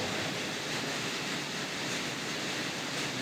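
Floodwater after heavy rain rushing beside a house in Na Thom, Nakhon Phanom, a steady broadband wash of flowing water, close and constant with no voices.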